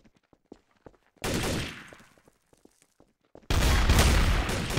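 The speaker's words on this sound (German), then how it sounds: "Hat einfach auf mich geschossen." Gunfire rings out in the game Trouble in Terrorist Town: two loud, sustained bursts of rapid shooting, the second harsher and closer, with faint footsteps and clicks in the quieter gaps.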